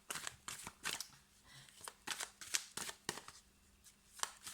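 Cards flicked and shuffled from a deck during a tarot-style reading, a quick series of crisp papery snaps and slides, fairly close and moderately loud, with no talk over them.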